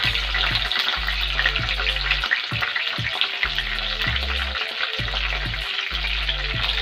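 Dried red chillies, cut up, sizzle steadily in hot oil in a pan, a continuous close frying hiss with occasional stirring and no voices.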